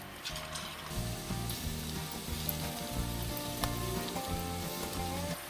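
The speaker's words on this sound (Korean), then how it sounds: "지글지글 소리가 맛있게 들리죠?" Pork for sweet and sour pork sizzles and crackles steadily in 170-degree oil, a continuous deep-frying hiss with a low bubbling rumble underneath.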